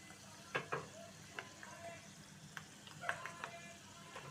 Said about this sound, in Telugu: తాలింపు చక్కగా వేగిందండి